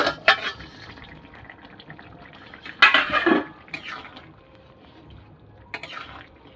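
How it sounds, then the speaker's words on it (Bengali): A lid is lifted off a pot of Bengali tengra fish curry with taro simmering on a low gas flame, giving a few sharp metallic clanks and scrapes at the start, middle and end against a quiet kitchen background. "এবার আমি ঢাকাটা খুলবো"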